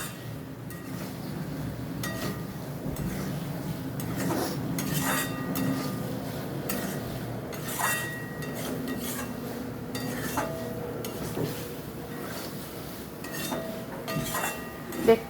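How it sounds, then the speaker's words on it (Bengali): Potatoes and paneer are stirred in a frying pan, producing a steady scraping and rustling with occasional metallic clinks of utensil against pan over a continuous sizzle. "আমি এর সাথে এবার আলুটা আর পনিরটা দিয়ে দিলাম। দিয়ে এটাকে নাড়িয়ে নেব।"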